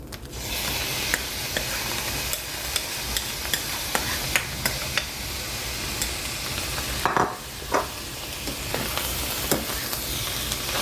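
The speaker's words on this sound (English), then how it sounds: "Make sure you get it all stirred up and incorporated before we throw in some soy sauce" Ground pork and cauliflower rice with other ingredients stir-fried in a pan for keto fried rice, a constant sizzle with repeated sharp clicks and scrapes of a utensil against the pan.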